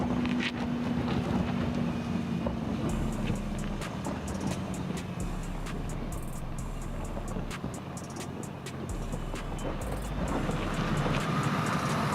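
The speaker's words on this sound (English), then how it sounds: "Throttling in the Discovery 3 leaves towards the finish line" A Land Rover Discovery 3 is throttled off-road toward the finish line, its engine giving a steady, loud drive rumble with continuous rolling and mechanical noise throughout and no talk.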